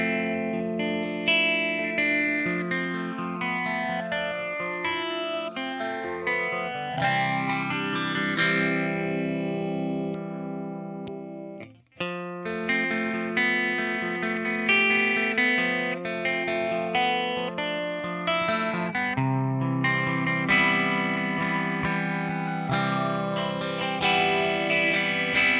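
Sustained guitar tones processed through an Eventide H90 effects preset set up to mimic a phaser, with swirling sweeping modulation over chords, loud and continuous with a brief dropout near the middle.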